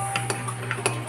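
A spoon clinks and scrapes against a mug while stirring chocolate cake batter, several sharp taps spaced irregularly over a steady low hum, close and alone without talk.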